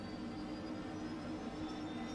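An Airbus H135 helicopter engine idling in Microsoft Flight Simulator makes a steady, low, even turbine whine and rumble with a faint high tone above it, and no voices.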